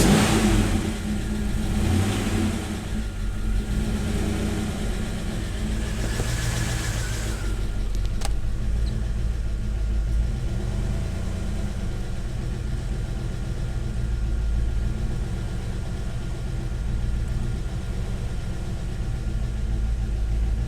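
A rebuilt budget LS engine that will not idle, kept running with a little throttle: a steady, loud engine rumble that holds evenly throughout after a brighter, revving opening.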